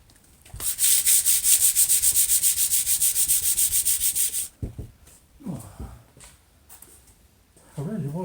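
A power sander runs on a wooden kitchen table top whose wood is still slightly damp, giving a loud pulsing whir with regular strokes for about four seconds before it stops, after which someone talks.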